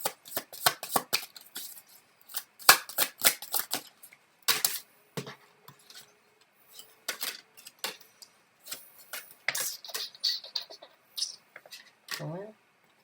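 Tarot cards being shuffled and snapped by hand, with rapid close riffles and flicks in uneven bursts, pauses between, and a final sliding sweep.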